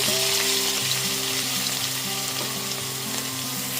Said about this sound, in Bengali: এরপর এতে 4টে মিডিয়াম সাইজের চপ করে নেওয়া পেঁয়াজ দিয়ে দিচ্ছি।